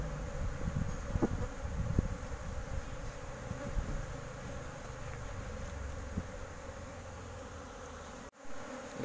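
Asian honey bees (Apis cerana) hum steadily around their nest during a hive harvest, a low, continuous buzz close by with a few soft knocks and rustles, ending in a brief cut.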